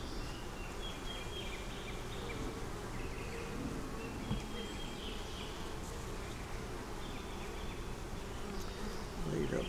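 Honeybees buzz around a hive frame of capped brood in a steady, dense, close-up hum that holds for about ten seconds without a break.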